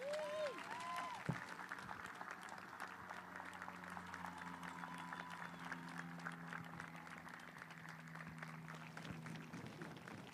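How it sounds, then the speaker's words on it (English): Applause from the crowd at a high school graduation ceremony, a sustained, fairly distant wash of clapping across a large hall, with tonal sounds and voices faintly underneath. "let us all give Ms. Nottery a round of applause"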